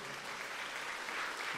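A church congregation claps in a short, even burst of applause, a soft, steady patter heard from a little distance without individual claps standing out.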